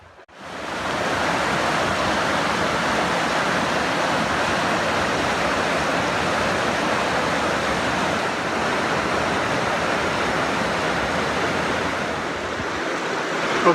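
Summit Creek, a mountain stream, rushes past close by as a steady, dense wash of flowing water that holds constant for the whole stretch, with no voices over it.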